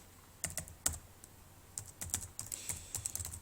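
A mail server address is typed on a computer keyboard in quiet, close, irregular bursts of keystrokes, some clustered and some single, with no talking.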